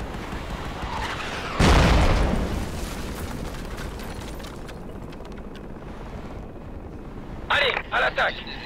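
Mortar rounds burst in the Project Reality battle at Xiangshan, one big, close boom that rolls off into a long rumbling tail, followed near the end by a quick cluster of sharper, fainter cracks, with voices talking throughout.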